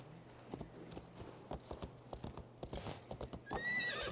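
Horse hooves clip-clop in the Assassin's Creed video game, a quick run of sharp, close hoof strikes at an uneven trotting rhythm, ending with a horse's whinny.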